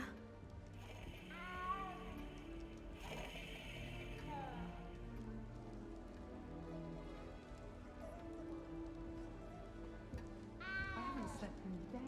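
Cat meows in the video game Hogwarts Legacy: a few short, rising mews near the start and again near the end, set against soft rain, quiet music and background ambience.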